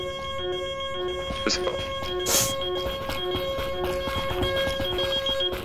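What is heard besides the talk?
alarm in video game Lockdown Protocol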